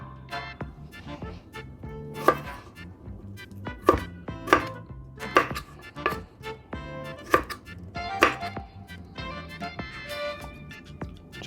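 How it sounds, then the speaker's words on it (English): Knife chopping celery stalks into julienne strips on a cutting board, a steady run of sharp, close taps with no talking. "Cut the celery stalks into equal sizes and we'll julienne them"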